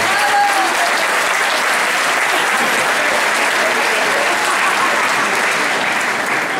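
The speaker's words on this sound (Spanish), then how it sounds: "Fuerte el aplauso para ustedes." Loud, sustained theatre applause at a community collectives gathering in 2014, a dense, even roar of many hands clapping throughout.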